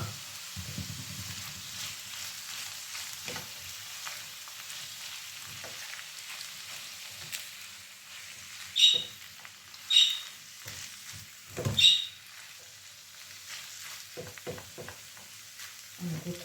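Quiet frying of buckwheat pilaf with chakhobili in a pan, a faint continuous sizzle broken by a few louder scraping stirs near the end, with no voices.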